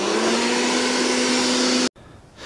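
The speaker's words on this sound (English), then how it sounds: "I'm going to fire this up and see what it does." An electric wood chipper runs at full speed with a steady, loud, whining motor roar up close, then cuts off abruptly before a quieter hum returns.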